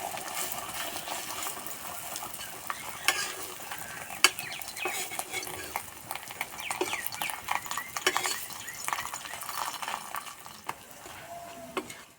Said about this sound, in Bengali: ভাজতেও বেশি সময় লাগবে না, হালকা আঁচে ভাজতে হবে।